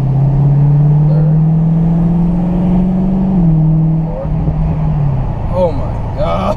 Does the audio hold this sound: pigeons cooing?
no